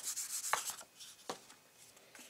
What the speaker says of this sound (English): Get my powder bag one more time and pick which end I want up.